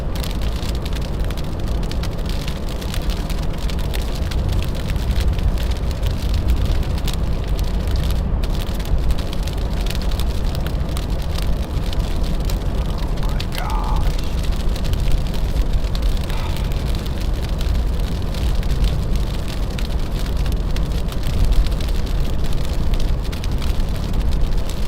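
Big chunks of sleet come down in a winter storm in New York, making a steady, dense patter and hiss that holds at an even, loud level throughout with no voices.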